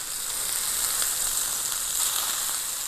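Hemingway burger patties sizzling in a pan, a steady bright hissing sizzle with small popping crackles, continuous and fairly close, with no talking.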